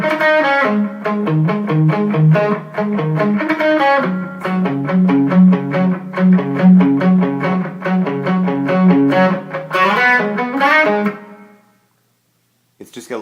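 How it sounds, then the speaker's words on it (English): Electric guitar playing steady, rhythmic chords through a TC G-System with a soft reverb tail, loud and close, stopping abruptly before a short silence. "It's just got a little bit of reverb on it"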